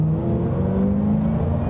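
A 1995 Aston Martin Vantage V550 with twin superchargers accelerates on a road, its engine giving a loud, deep, steady drone from inside the car with no voices.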